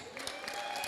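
Guests at a wedding celebration keep up a steady, fairly loud burst of applause the whole time, with a faint hum of crowd noise beneath the clapping.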